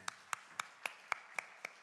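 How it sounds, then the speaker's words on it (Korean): At a church service, clapping of blessing sounds as eight sharp, evenly spaced claps in a steady rhythm. They are faint and a little distant, with no talk over them. "우리 축복의 박수하도록 하겠습니다"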